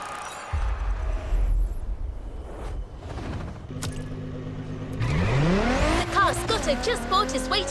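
A 1,000-horsepower Camaro with a 632 big-block V8 in The Crew Motorfest, its engine rumbling and then revving up in rising sweeps, with tire squeal mixed in near the end.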